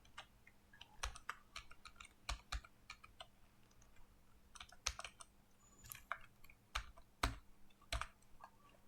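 Computer keyboard keys clack in irregular bursts as text is typed into a Google Sheet, close and fairly quiet with short pauses between flurries.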